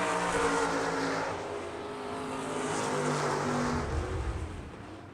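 An ASCS Elite non-wing sprint car engine roaring at South Texas Race Ranch, a loud sustained drone that fades slightly and then swells again as the car passes down the back stretch.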